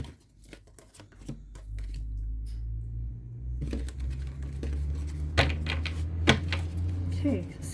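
Tarot cards handled and shuffled close by, with soft papery flicks and taps in uneven bursts over a low steady background hum, and a voice talking faintly at times.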